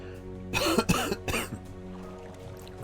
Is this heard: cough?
yes